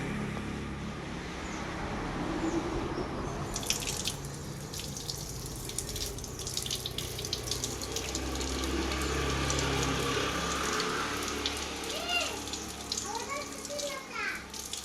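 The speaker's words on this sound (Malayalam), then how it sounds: "ഇനി നമുക്ക് കഴുകി നോക്കാം" Running tap water flows steadily while something is washed at a sink, a continuous close splashing stream lasting the whole stretch, with children's voices and adult talk over it.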